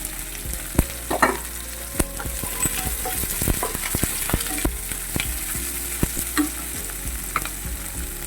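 Curry leaves and green chillies sauté in a pan for upma, with a spatula repeatedly scraping and clinking against the metal over a continuous close, moderate frying sizzle.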